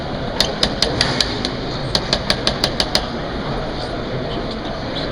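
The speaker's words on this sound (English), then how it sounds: "So I'm going to use the phone as a hammer." A nail is driven into wood with a rugged Sonim XP1300 phone used as a hammer, giving two sets of sharp, evenly spaced knocks about a dozen strikes in all, close and loud over steady room noise.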